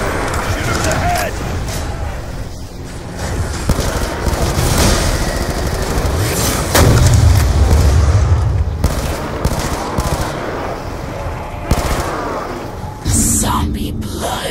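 Loud, dense gunfire in a zombies video game, with rapid automatic bursts and booms that run almost the whole time beneath shouting game voices.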